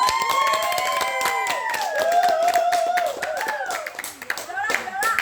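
An audience at a fifth-anniversary gathering of a sports club claps for a pair of players, with dense, sustained applause and scattered cheers rising and falling over several seconds.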